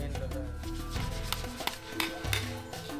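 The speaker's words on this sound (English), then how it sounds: "Workers crack open the bottom of the pot to reveal the salt." Workers crack open the bottom of a clay pot holding Asin Tibook salt, a rare Philippine salt: a run of close, sharp knocks and chipping strikes, irregular but steady throughout, over a busy background.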